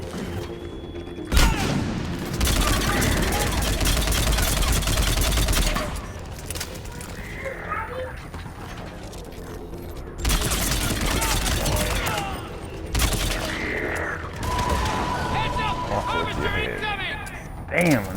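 A rifle fires repeatedly in the sci-fi shooter Mass Effect 3: loud, sustained bursts with booming impacts and mechanical game effects, broken by brief pauses. Someone talks throughout the fighting.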